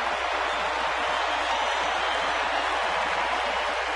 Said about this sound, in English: Nice to hear a big crowd in a large house tonight get behind Lopez.